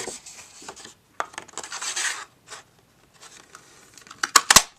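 Pink paper crafted for a Valentine card is worked in a 2 1/2 inch circle punch, giving close rustling and scraping followed by a quick burst of sharp snapping clicks as the circle punches out.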